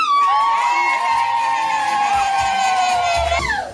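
A church congregation at an engagement announcement erupts in loud ululating cheers and whoops for the newly engaged couple, a sustained, close crowd roar that fades at the end.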